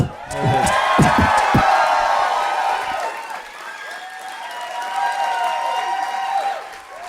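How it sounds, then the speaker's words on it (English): A live audience at a comedy podcast taping in Chicago bursts into applause, loud and close at first with sharp claps, then a sustained wash of clapping and cheering that swells again before tapering off. "Usador can hear your applause"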